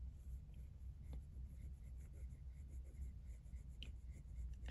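A pen writes by hand in a Hobonichi Weeks planner, producing faint, close scratchy strokes with small taps over a low background rumble, quiet and alone without speech.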